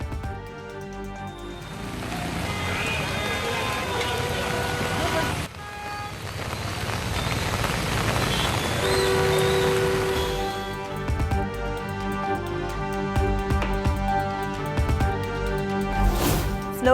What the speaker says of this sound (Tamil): தெலங்கானா மாநிலம் செகந்திராபாத்தில் இரவில் கொட்டி தீர்த்த கனமழை